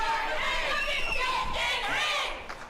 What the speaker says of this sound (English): You hear this crowd there?